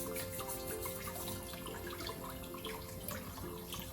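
Tap water runs steadily into a sink as farm eggs are washed by hand, a continuous hiss and splash with small clinks, close and fairly loud with no talking.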